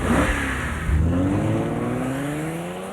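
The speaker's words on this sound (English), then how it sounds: "The new 375 horsepower Hyundai Genesis can go from 0 to 60 faster than a Porsche Boxster." A 375-horsepower Hyundai Genesis car accelerates hard in a television advert, its engine loud and close as the revving pitch climbs steadily through a gear change, with no talking.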